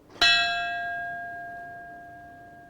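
A single fire bell is struck once, sharp and loud, then rings on in a long, slowly fading metallic tone with bright overtones, alone with no voices.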